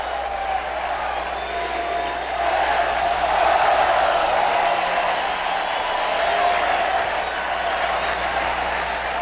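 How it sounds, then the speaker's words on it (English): A baseball stadium crowd from a 1983 Orioles game cheers and applauds in a broad, sustained wash that swells in the middle and then holds steady, heard from a distance without any clear voices. "There's the cheer."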